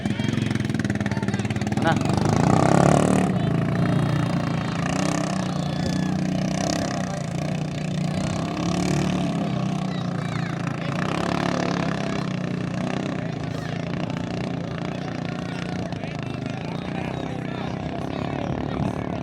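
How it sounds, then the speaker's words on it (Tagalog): The misfiring engine of a racing boat at a bangkarera boat race sputters and drones unevenly, loudest early on and then settling into a rough, buzzing idle, heard under people talking. "Palyado pa yata ang makina."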